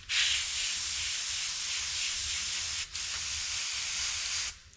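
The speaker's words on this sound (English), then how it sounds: "So I've got white already mixed up in my airbrush." An airbrush loaded with white base coat paint hisses in a steady, close, loud spray for about four and a half seconds, with one brief break near the middle before it cuts off.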